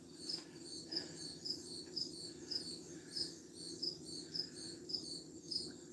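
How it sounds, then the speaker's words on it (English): Steady crickets chirp in repeated high pulses against a quiet night backdrop, fairly faint and continuous with no voices. "Can you hear the crickets?"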